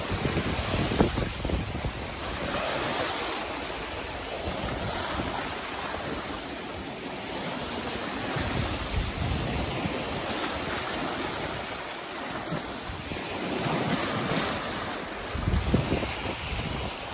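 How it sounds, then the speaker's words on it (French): Waves beat continuously against the Lake Champlain shore, a steady washing roar with gentle swells, mixed with heavy wind buffeting the microphone and no voices. "La rive battue par les vagues."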